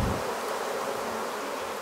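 Honeybees swarm around a hive in New Caledonia, a steady close buzz filling the brief moment with no voices over it.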